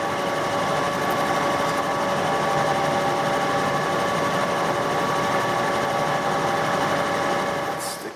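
A lathe takes a skim cut on a restored chuck, a continuous steady machine drone with a fine tonal whine, close and even throughout, with no talk.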